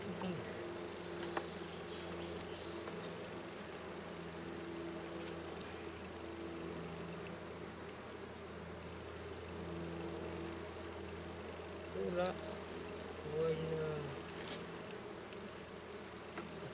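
Honeybees hum in a continuous, steady buzz during a spring hive inspection, with a few louder passes as individual bees fly near, over a faint low background rumble.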